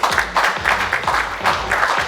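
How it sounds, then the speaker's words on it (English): Audience applause at a Zee TV show launch event, a steady wash of clapping hands with rhythmic surges, continuous and fairly loud throughout. "Can we have big round of applause, everybody,"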